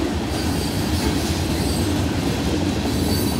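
A freight train rolls close by as a continuous loud rumble and rattle of railcars, with wheel squeal and clacking over the rails and no voices.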